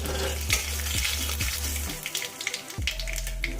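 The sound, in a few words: nigella seeds frying in oil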